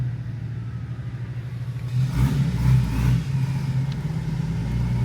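A budget 4x4 touring vehicle's engine runs steadily while driving, a continuous low rumble that swells as it picks up revs partway through, close and fairly loud with no talk.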